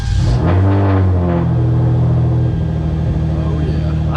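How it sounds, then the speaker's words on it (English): A Genesis Coupe engine, freshly fitted with a manifold riser, cranks and catches, flares briefly in revs, then settles into a loud, steady low idle, with a voice talking over it. "We're gonna go ahead and start the car up, make sure it idles fine"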